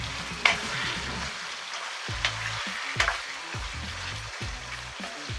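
Capsicum chicken masala fries steadily in a pan, a close continuous sizzle broken by a few sharp stirring scrapes and clicks, with no voices.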